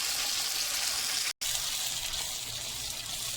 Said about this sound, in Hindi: अब हम इसमें एक मीडियम साइज़ का टमाटर के पेस्ट जो है वो डालते हैं और इसको अच्छी तरह से मिक्स करते हैं